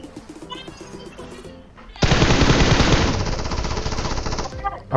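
Sustained automatic gunfire in the PUBG Mobile game, a dense, loud burst of rapid shots that starts abruptly after about two seconds of quieter game ambience and continues steadily to the end.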